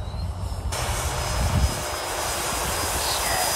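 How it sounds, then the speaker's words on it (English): An E-flite Turbo Timber Evolution 1.5m radio-controlled airplane flying on a windy day, its electric motor giving a steady buzzing drone with a constant high whine, fairly close and continuous, with wind noise and no talking. "It's just such a stable, easy flying airplane."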